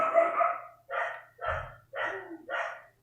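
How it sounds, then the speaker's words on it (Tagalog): A dog barks five times in a slow, even series, loud and close, with short pauses between each bark. "ipasensya na kayo ang ingay ng mga aso"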